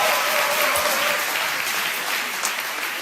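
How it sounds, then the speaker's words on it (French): A church congregation applauds for the Holy Spirit, loud sustained clapping from a large crowd filling the room without a break. "On peut acclamer pour le Saint-Esprit"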